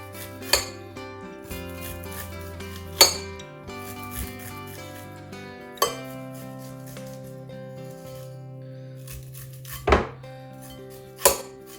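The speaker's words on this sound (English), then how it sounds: "We're going to cut that corn right off the cob." A short knife cuts sweet corn kernels off the cob inside a bowl, giving about five distinct scraping strikes spaced a couple of seconds apart, with the bowl ringing faintly after each stroke.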